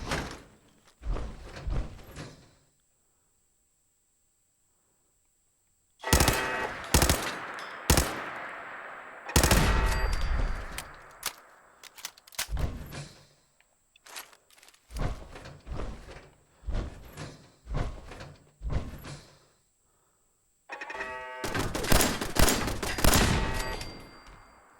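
Automated turrets fire in Fallout 4 in sharp, loud, staccato bursts of rapid shots separated by quiet gaps, with a long sustained volley near the end.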